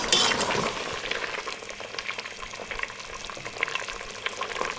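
Beef korma cooks in a pot, giving a steady close sizzling and bubbling hiss with occasional stirring scrapes, no voices.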